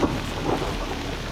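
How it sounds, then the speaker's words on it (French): Low rumbling thunder during a Himalayan snowstorm, a distant, steady roll with a slightly louder swell at the start, heard alone without voices. "Bon, il neige et il y a le tonnerre."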